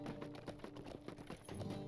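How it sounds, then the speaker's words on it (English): A horse's hooves clip-clop at an even riding pace through Bree-land in Lord of the Rings Online, quick regular beats over a soft game ambience. "I'm riding through Bree-land on my horse, Shadowheart"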